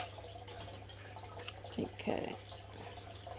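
Water from a fish tank is poured onto a potted neon pothos, giving a couple of short, soft splashing gurgles over a low steady hum; a person speaks a brief word.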